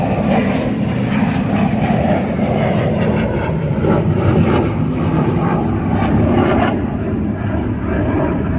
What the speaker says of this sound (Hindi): फाइटर जेट जा रहा है और इसकी बहुत आवाज़ हो रही है।